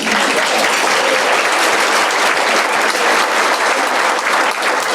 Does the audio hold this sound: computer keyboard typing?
no